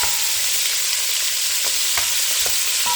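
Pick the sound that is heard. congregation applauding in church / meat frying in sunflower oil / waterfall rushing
meat frying in sunflower oil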